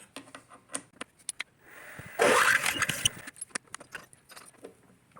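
A small milling machine with a carbide bit, lubricated and run slowly, cuts metal in one harsh, gritty burst of about a second, surrounded by light clicks and taps.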